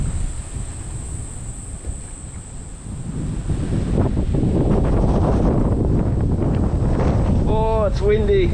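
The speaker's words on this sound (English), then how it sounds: "Oh, it's windy." Strong, steady wind buffeting at a hilltop lookout in Rotary Park above the Burdekin River mouth, roaring louder through the second half, with brief chatter of birds near the end.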